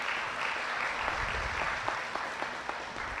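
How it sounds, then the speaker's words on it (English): Graduates at a high school commencement give their families a round of applause, a steady burst of clapping from a large crowd that holds for about three seconds. "Class of 2025, can you please give your loved ones a round of applause to recognize them?"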